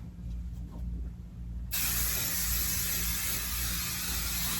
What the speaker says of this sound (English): I need more spray over here on the edge.